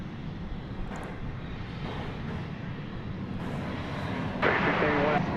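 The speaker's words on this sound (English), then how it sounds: "There's the plane coming through the trees." Airplane passing at DFW Airport at night, a steady broadband engine roar that swells slightly toward the end, heard with a voice talking over it.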